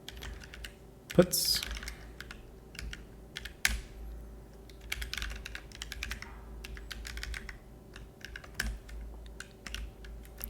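Rapid clatter of computer keyboard typing, close and fairly quiet, with bursts of keystrokes scattered throughout and a brief spoken word near the start.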